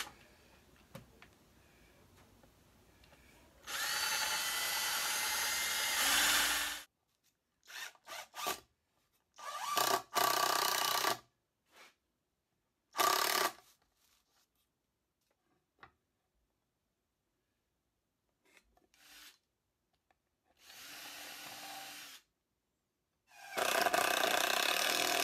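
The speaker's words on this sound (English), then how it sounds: "Here at the bottom, I'm drilling a little pilot hole so it doesn't split out." A small drill whirs in several bursts of a few seconds each, boring a pilot hole in a wooden bluebird nesting box board, separated by silent pauses and light handling clicks.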